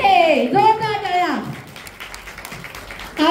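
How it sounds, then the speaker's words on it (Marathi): A speaker's voice gives way to a stretch of steady clapping at a first birthday party as guests applaud a celebrity guest. "जोरदार टाळ्या।"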